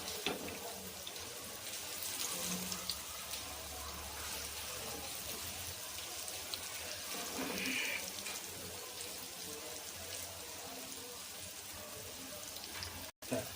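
Surmai fish pieces coated in semosemolina and rice flour fry in hot oil, producing a continuous close crackling sizzle that holds steady for several seconds, with a brief clatter near the end.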